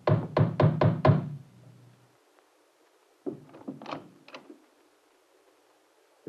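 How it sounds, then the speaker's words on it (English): Knocking on a door in a 1954 radio drama of Strange Case of Dr Jekyll and Mr Hyde: five quick, loud raps in a tight burst, then after a pause a second, softer cluster of knocks and rustling. "At midnight, there was a knock on his door."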